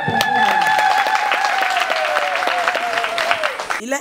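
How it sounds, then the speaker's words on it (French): Women at a political party gathering in Tanguiéta, Benin, applaud themselves, a crowd clapping mixed with a sustained tonal whistle or ululation that slowly falls in pitch before cutting off. "Alors, applaudissez pour vous."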